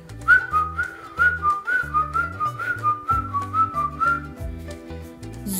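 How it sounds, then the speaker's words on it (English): Someone whistles a bouncy tune with a wavering pitch, heard over a plodding musical accompaniment. "I hear a zookeeper whistling in my ear."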